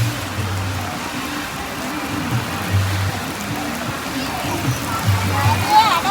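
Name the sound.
rain falling during Pongala festival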